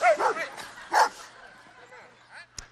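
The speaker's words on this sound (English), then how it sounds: "She's one of those dogs that splits other dogs up." A dog gives a few sharp yips and barks close by, followed by softer whining whimpers that trail off, with a person's voice mixed in.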